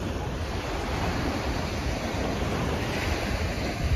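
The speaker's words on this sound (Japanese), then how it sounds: "波が来た。" Ocean surf washing steadily onto a sandy beach, a continuous loud broadband rush with wind buffeting the microphone, no distinct individual breaks.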